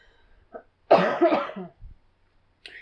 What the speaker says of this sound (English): When the podcast microphones go to turn on, you just start coughing automatically.